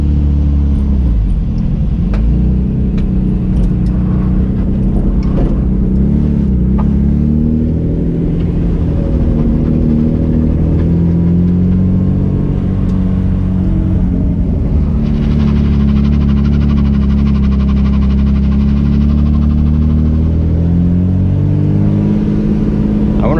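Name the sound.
leaky car exhaust rumbling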